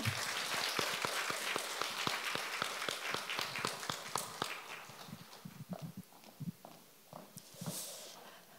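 A church congregation at a Wednesday morning women's worship service claps to welcome a guest speaker, loud dense applause that thins into scattered claps toward the end.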